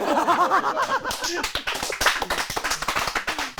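A small audience applauds in a library, a steady patter of claps running throughout, with a voice and laughter mixed in over the first second and a half.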